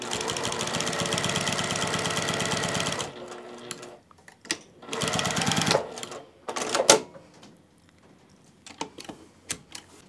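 A sewing machine runs in a fast, even burst as it back stitches a quilt's binding, then stops, followed by shorter spurts of stitching and brief handling noises in between.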